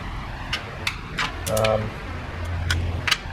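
Clicks and creaks of a torque wrench ratcheting as valve cover bolts on a 2012-2019 Ford Focus are brought to spec, short sharp clicks spaced irregularly with a brief mechanical whir midway, close and moderately loud.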